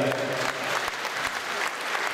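A kickboxing fight-night crowd applauds the female fighters with loud, sustained clapping that fills the whole moment, a few sharper claps standing out from the steady roar.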